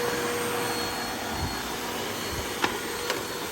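An upright vacuum cleaner with a spinning brush bar, running as a steady loud whine with a rushing airflow roar, close by and with no voices.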